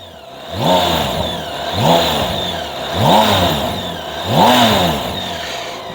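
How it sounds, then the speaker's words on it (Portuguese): A 2023 BMW K1600B motorcycle engine idles and is revved four times in a steady rhythm, each rev rising and falling smoothly, close by with no talking. "É um motor muito sereninho, que não tem uma sonoridade muito bruta"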